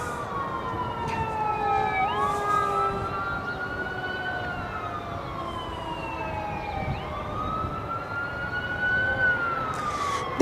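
Emergency vehicle sirens wail through a city street, rising and falling in repeated sweeps over steady traffic rumble, loud and continuous as the vehicles pass nearby.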